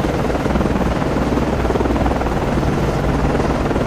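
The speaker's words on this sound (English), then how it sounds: "Con, flight code, launching aircraft." A helicopter launches from a destroyer (DDG-79) in the naval game Cold Waters, set in the Sea of Japan; its loud, close rotor chop and engine whine drone steadily throughout.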